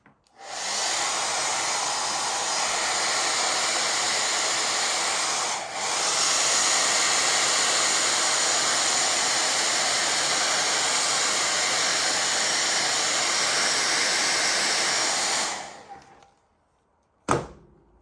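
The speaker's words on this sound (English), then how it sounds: "So I have my blow dryer right here. So this is going to be loud and noisy." A handheld blow dryer runs steadily and loudly for about fifteen seconds while drying a watercolor painting of a peregrine falcon, with a brief dip midway before it cuts off, followed by a single sharp knock.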